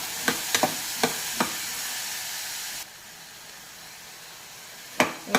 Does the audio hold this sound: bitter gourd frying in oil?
yes